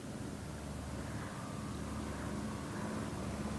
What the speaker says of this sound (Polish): Znowu słychać odgłos tego samolotu.